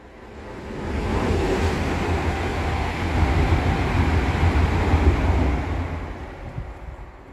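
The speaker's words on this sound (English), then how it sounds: "Another train coming." A train rumbles past on the line near the Thames Path between Wallingford and Goring, swelling from quiet to a loud, steady roar for several seconds before fading away again.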